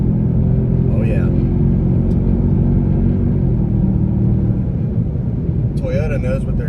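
A Toyota Sequoia TRD Pro with a twin turbo V6 drives along, a steady loud low engine and road rumble throughout, with a voice talking briefly over it.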